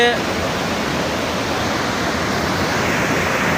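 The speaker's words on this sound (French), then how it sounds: "Voilà la chute Guillaume, là où nous sommes." Guillaume waterfall in the Kwango region, its water roaring in a steady, loud, unbroken rush that fills the whole clip from close range.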